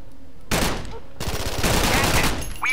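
Gunfire in a Roblox-style shooter game erupts in two loud bursts of rapid shots after a quiet start, with a short gap between them.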